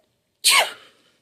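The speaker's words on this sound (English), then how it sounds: "but Dumbo sneezed again" A single sharp cartoon sneeze from Dumbo the elephant, a sudden loud burst with a trumpeting, swooping tone that fades quickly, heard alone without any talking.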